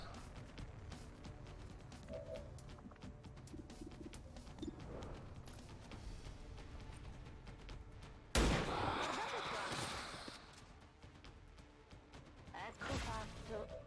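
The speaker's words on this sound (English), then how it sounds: "we dump the grenade here, take the sniper shot" A grenade blast and sniper rifle shot in the XCOM 2 strategy game, a sudden loud explosive burst that decays over a second or two, followed later by a sharp shot, over ambient game sounds and faint talk.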